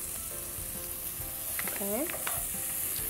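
Chicken sizzling and frying in a pan while wraps are made, a steady broad crackle throughout with some stirring clatter; a voice speaks one brief word over it.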